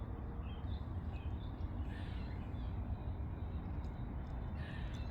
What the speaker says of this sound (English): you come out and you can hear the birds, the squirrels